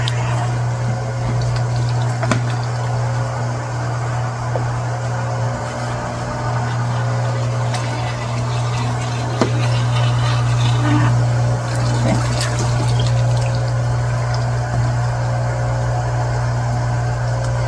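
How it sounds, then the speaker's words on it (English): A pond pump pushes water out through a pipe, giving a steady, loud mechanical hum with a low drone under continuous splashing and gushing flow nearby. "Throws the water quite nicely when it comes out, doesn't it?"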